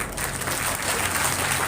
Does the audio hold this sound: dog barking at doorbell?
no